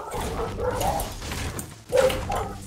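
Short yipping dog barks from the Fortnite video game, two brief bursts a second apart heard over a low background murmur.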